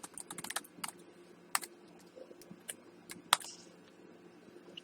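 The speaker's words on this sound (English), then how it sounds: "In this case, I'll type in Corvette" Quiet typing on a computer keyboard, a string of light uneven clicks and taps in quick bursts with brief pauses, close and soft, with no talking.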